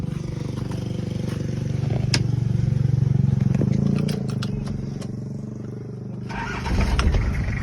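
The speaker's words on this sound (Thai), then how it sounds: "เดี๋ยวมามาชมเสียงเครื่องนะครับ" A Honda Mighty motorcycle engine idles with a steady low rumble, rising briefly in revs near the end, with a few light clatters.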